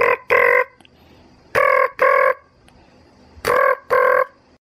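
A telephone ringing in a comedy scene, three pairs of loud electronic double rings, each pair followed by a short silence.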